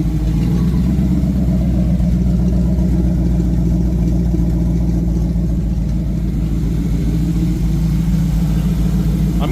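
A 1986 Ford Mustang GT Foxbody with a fuel-injected V8 runs steadily at a close, loud idle, with a constant low rumble and no talking.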